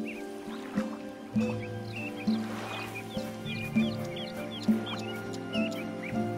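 Birds in the Lost Chronicles of Zerzura video game, clucking and chirping calls scattered over a steady droning background of tonal game ambience, moderately quiet.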